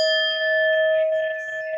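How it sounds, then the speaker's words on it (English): A struck singing bowl rings with a clear, sustained metallic tone and bright overtones, loud and close, decaying slowly over nearly two seconds. "We're going to hit the bell and we're going to jump right into it."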